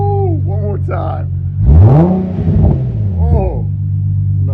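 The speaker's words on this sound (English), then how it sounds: "Let's hear a little bit of a rev." An Infiniti G37 with a Z1 exhaust and tune, its engine blipped once into a loud, rising rev that falls back to a rumbling idle, heard close up with people talking over it before and after.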